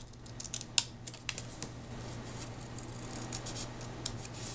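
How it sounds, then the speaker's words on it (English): Scissors snipping paper ends into a pennant shape for Valentine treat bags, a few quiet close cuts with soft rustling between them, no talking. "And I'll cut the ends to create a pennant shape."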